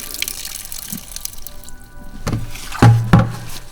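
Liquid solution pours and splashes out of an Airofog U120 ULV sprayer being emptied, with a soft trickle building into louder gushing splashes near the end, close by and with no talking.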